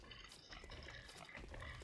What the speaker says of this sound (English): So if I just get up here and kill the one pig, I will have definitely enough blood echoes.